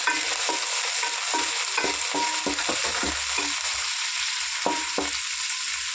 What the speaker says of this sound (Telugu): పుదీనా, కొత్తిమీర ఫ్రై చేసుకున్నామండి.